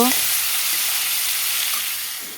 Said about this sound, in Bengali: এখন মিষ্টি কুমড়োগুলোকে ভেজে নেব